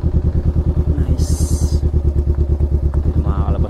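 A motorcycle engine idles close by at a nature park in Tanay, Rizal, thumping in a fast even rhythm with brief higher clatter over it and no voices.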